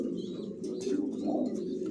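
Racer pigeons, young birds kept in cages, coo softly nearby in low, rolling murmurs, with a few brief chirps and a faint flutter mixed in, and no speech.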